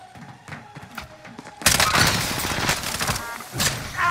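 Gunfire in Call of Duty Warzone, with sparse shots at first and then a loud, dense burst of rapid firing and impacts that continues to the end.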